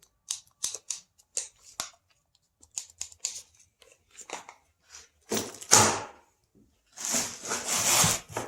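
The trigger button on a MIG welding torch from a Yeswelder MIG 205 clicks several times in short, crisp bursts, followed by louder rustling and crinkling of packaging close by.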